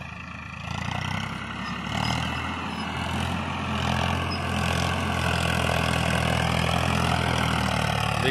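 New Farmtrac 45 tractor engine pulling a loaded trolley in a tractor power test, a steady heavy diesel rumble, close and continuous, rising slightly in load as it works.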